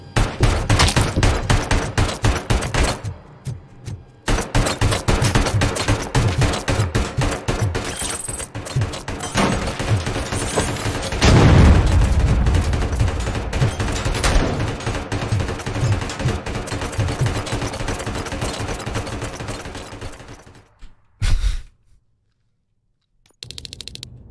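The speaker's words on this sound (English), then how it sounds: "What are you shooting at?" Rapid video-game gunfire rattles in dense, loud automatic bursts for about twenty seconds, with brief pauses, then trails off into a few isolated shots and near silence.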